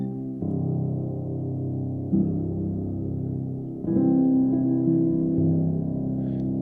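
Spitfire LABS soft felt piano played in its low register, sustained dark, warm chords changing every couple of seconds with muffled attacks, close and steady, with no talking.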